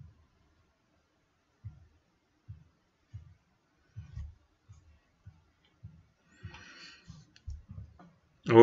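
A computer mouse on an old laptop clicks to open cricket scoring software, giving a sparse series of faint, soft clicks in near silence, followed by a brief louder noise at the end.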